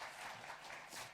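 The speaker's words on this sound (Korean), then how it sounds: "박수로 환영하겠습니다" A church congregation applauding to welcome guests during a Sunday service, a soft, steady patter of many hands clapping, faint and distant, with no talk over it.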